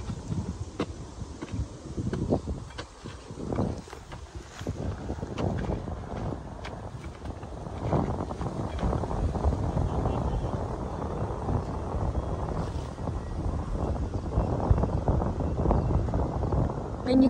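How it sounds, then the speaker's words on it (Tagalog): Wind blowing outdoors in a rural Philippine setting, a continuous low rumble with gusty buffeting on the microphone, and scattered ticks and rustles over it. "Mahangin."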